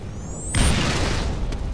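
A single loud, booming grenade explosion in Halo Reach, bursting after a brief whistle-like streak and rumbling on for about a second.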